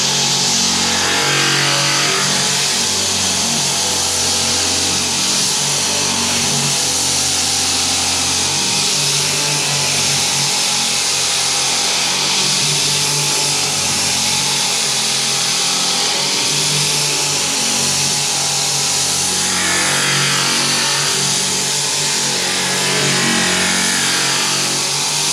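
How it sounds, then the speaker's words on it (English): Flooring edger sander grinding into a fiberglass sailboat cockpit floor, a loud, close, continuous motor roar with harsh abrasive hiss, holding steady for a long stretch with slight swells. "The thing about the flooring edger is, apart from the fact that it cuts faster than any other tool that I've used"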